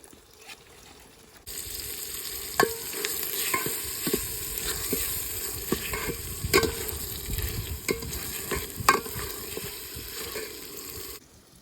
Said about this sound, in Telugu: సో ఈ ఆనియన్స్ లైట్ గోల్డ్ కలర్ వచ్చే వరకు కాసేపు ఫ్రై చేసుకుందాం